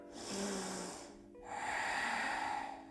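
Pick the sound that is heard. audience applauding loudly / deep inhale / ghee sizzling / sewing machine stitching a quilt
deep inhale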